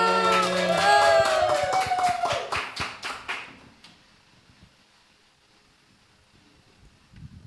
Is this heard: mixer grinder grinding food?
no